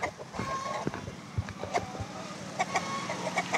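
Aseel rooster and hens cluck in a yard, short close clucks and calls scattered irregularly over a busy background with a faint passing car.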